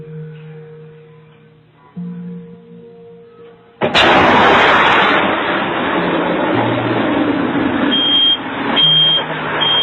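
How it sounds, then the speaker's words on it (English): A quiet children's playroom with faint electronic tones is shattered by a sudden loud water boiler explosion, followed by several seconds of rushing, rattling metal and wood debris, heard through a baby monitor. "The home's water boiler had exploded"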